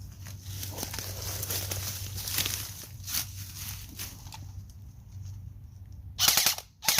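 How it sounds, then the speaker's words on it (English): Machine gun firing in a video game: rapid crackling bursts over a steady low hum, ending in a louder, harsher volley near the end. "I'm going to shoot a bunch of bursts that way"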